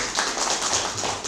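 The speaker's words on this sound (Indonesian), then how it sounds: "Tepuk tangan untuk kita semua." Audience applause at a school seminar session, a dense spread of many hands clapping steadily throughout, fairly loud and without talk over it.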